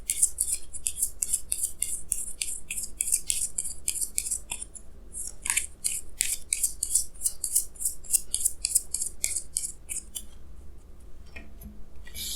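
Tarot cards are shuffled and drawn in a dense run of quick, crisp snapping and riffling sounds, continuous and close, with a brief pause near the end and no talking.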